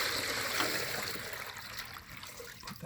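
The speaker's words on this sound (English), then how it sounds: "You can see how fast it drains a 3-gallon bucket of water." A raft bilge pump drains a 3-gallon bucket of water, giving a steady, fairly loud rushing gush of flowing water that eases off slightly near the end.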